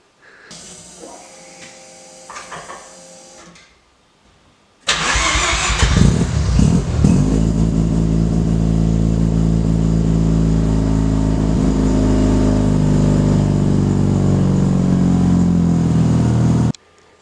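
Rotary car engine being warmed up before a compression test, with a brief cranking and starting attempt, a pause, then the engine catching and settling into a loud, steady, buzzing idle close to the microphone.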